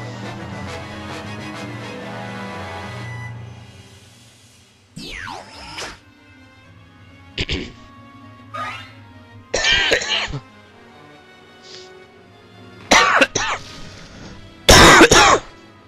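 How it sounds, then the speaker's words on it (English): A long coughing attack with several harsh bursts of coughing and throat clearing spread across the stretch, separated by quiet pauses, near and loud over faint game music in the background. "I had quite a long coughing attack that time"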